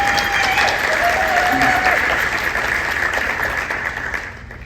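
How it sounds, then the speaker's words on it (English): Sustained audience applause at a conference of Native American women honoring Chief Joyce Dugan, a dense, steady wash of clapping from a large crowd that holds loud before fading away at the end. "Let's have a round of applause for this major accomplishment."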